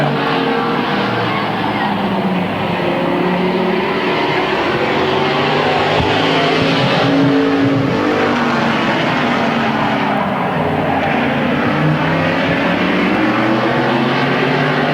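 Race cars roar around the oval at Midvale Speedway in 1995 in a dense, continuous engine drone. Pitch sweeps rise and fall as cars pass, with several engines overlapping at loud, steady volume.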